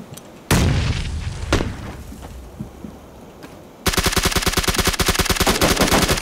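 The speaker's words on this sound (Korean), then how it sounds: "오, 수류탄 또 수류탄." Grenade blasts and gunfire in the battle-royale video game PUBG: two sharp booms with a lingering rumble, then a rapid, loud burst of automatic fire that keeps rattling to the end.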